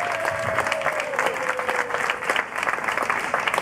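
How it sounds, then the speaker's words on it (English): Audience at a farewell party breaks into steady, fairly close applause, many hands clapping continuously with a brief faint tone sliding beneath the clapping early on. "I want to have a big applause to Catherine."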